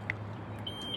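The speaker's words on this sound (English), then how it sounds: "The buzzer is on, but the lamp is not coming." A car reverse buzzer alarm gives short electronic beeps, one early and two later, over a steady low hum, fairly quiet and close.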